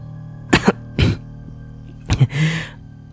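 A woman coughs in several short, close bursts spaced across a few seconds, rising above a low, steady background hum with no talking.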